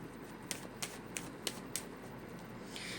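Tarot cards are handled during a reading. Five crisp, evenly spaced taps sound as cards are drawn and laid down, followed by a soft swishing shuffle, all quiet and close, with no speech.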